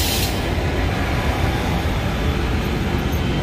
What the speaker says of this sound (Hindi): तो गाइस अपनी गाड़ी जम्मू तवी से डिपार्चर करते हुए